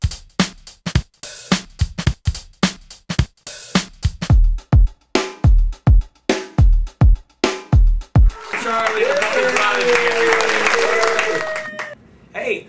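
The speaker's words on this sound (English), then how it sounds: "Give a round of applause." An audience applauds for Charlie Argiro, with sharp, evenly spaced beats followed by a dense wash of crowd clapping and cheering that swells and then fades.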